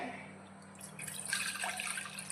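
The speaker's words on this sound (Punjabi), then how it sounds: "ਆਪਾਂ ਦੁਬਾਰਾ ਪਾਣੀ ਇਹਦੇ ਵਿੱਚ ਪਾ ਲਿਆ" Water is poured into a bowl while glassware is being cleaned, a soft splashing trickle that builds and grows brighter midway, with no talk over it.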